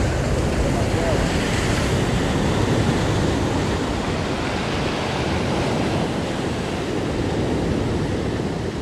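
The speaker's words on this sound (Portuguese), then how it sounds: "Deixa vir este mar agora." Sea waves break and roll continuously along a Portuguese shore during fishing preparation, a loud, steady roar of surf mixed with wind buffeting the microphone, with no pauses.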